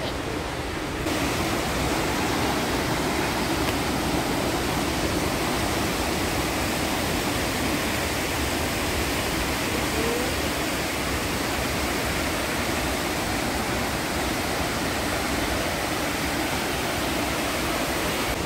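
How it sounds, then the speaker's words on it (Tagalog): Golden Waterfall near Jiufen in Taiwan roars as a steady, loud, unbroken wash of falling water with no pauses or other sounds. "And now guys, nandito kami sa Golden Waterfalls."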